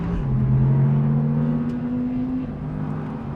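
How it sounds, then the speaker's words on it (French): An Audi R8 sports car powering out of a slow hairpin in second gear as the rear steps out into a drift, its engine holding a steady drone with pitch shifting slightly, heard from close by without talk. "Comme ici, épingle en deuxième et hop!"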